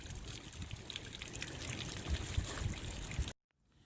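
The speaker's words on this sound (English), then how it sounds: "As you can see, the water heater is draining." Water drains from a camper's water heater in a steady, close, rushing trickle that holds evenly for over three seconds, then stops abruptly.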